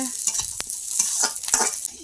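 Close, loud stirring scrapes over a steady sizzle of lentils frying in oil, with several brief clatters of a spoon against the pan.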